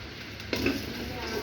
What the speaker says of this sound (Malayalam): ജീരകം വറുത്ത് കഴിഞ്ഞു